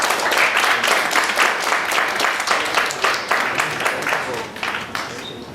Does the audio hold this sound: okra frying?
no